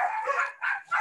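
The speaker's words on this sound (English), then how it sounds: "Sorry about the dogs in Bali." Dogs in Bali bark in a few loud, close bursts, with short yelping barks separated by brief pauses and no one talking over them.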